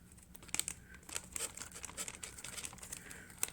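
A plastic baggie is handled close up, its sharp crinkles and rustles coming in short bursts at a quiet level, with small crisp crackles between them.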